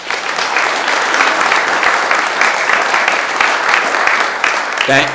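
Sustained applause from an audience at a Connecticut farm bill press conference, steady dense clapping filling the whole stretch at close range, with a brief tonal sound near the end.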